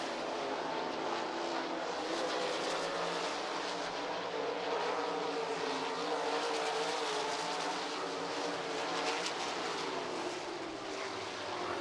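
Sprint race cars at a speedway roar down the back straightaway in a steady, continuous engine drone heard from a distance, with the field's sound blending into one sustained wash.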